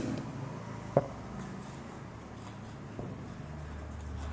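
Writing on a classroom board: soft, faint scratching strokes with a couple of sharper taps, set against a quiet room hum.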